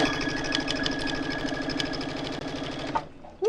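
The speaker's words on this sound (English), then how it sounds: "I'm doing an 1/8 inch stitch right here" A sewing machine runs steadily, stitching an eighth-inch seam along a fabric selvage, a loud, even whirring rattle that stops abruptly near the end, followed by a brief mechanical clunk.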